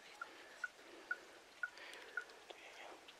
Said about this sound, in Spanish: Lo único que sale acá es apenas una gota de agua para el río.